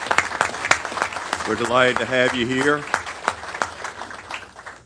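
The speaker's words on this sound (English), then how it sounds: "Give them a round of applause." Applause for Boy Scouts Pack 471 at a city council meeting rises briefly under a voice as he welcomes them, with scattered claps through the room.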